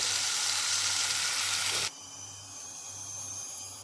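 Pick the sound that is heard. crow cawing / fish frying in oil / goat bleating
fish frying in oil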